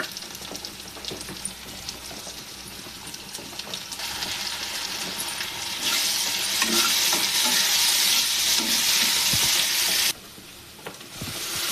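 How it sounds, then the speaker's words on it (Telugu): Ginger garlic paste with curry leaves frying in hot oil for a banana curry, a steady close sizzle that swells louder midway with occasional stirring scrapes. "అల్లం వెల్లుల్లి పేస్ట్ వేసుకుంటున్నాను."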